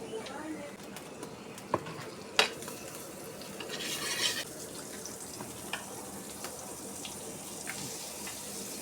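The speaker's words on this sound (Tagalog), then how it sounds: "lagyan natin ng butter para mabango yung luto natin" Butter cooking in a pan gives a faint, steady sizzle with scattered utensil clicks and scrapes, a couple of sharper knocks and a brief rushing burst midway, all heard at a modest distance.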